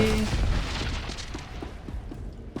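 A detonated object explodes in the video game SWTOR, a loud, close boom that rumbles and slowly fades over the following seconds.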